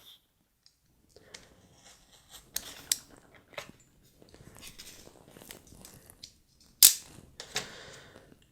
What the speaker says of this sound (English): cut the appropriate decal from the decal sheet using a sharp knife